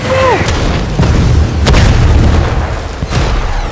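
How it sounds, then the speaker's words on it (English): Battlefield barrage as enemy machines on a ridge open fire on soldiers: heavy booming blasts and bursts roll over a constant loud low rumble, with sharp cracks near the middle and end. "Suddenly, enemy machines appeared on a ridge and opened fire."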